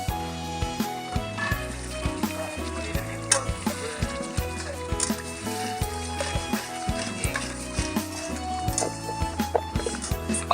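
Food sizzles and crackles in hot oil, with steady frying hiss and intermittent pops and stirring clatter, close by and continuous.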